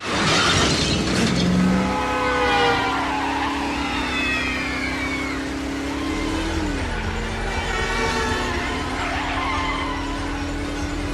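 A car engine revs hard with a tire skid and a sharp crash-like burst early on, followed by a sustained loud engine whine that shifts pitch, in a scene from the horror film Witchboard 2.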